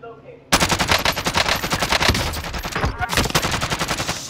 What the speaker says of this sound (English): Oh, somebody sniping.